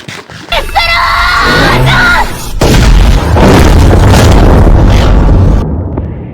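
Loud booming explosion from a Megumin magic addon in Minecraft PE, a heavy blast rolling on for several seconds after a brief lead-in of chiming game sounds.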